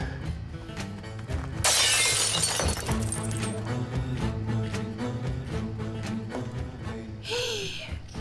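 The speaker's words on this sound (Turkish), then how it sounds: "Deli kırdı camı." A glass pane is smashed in a loud, sudden burst of shattering, its crash spreading over steady background music, followed later by a shorter, fainter crunch.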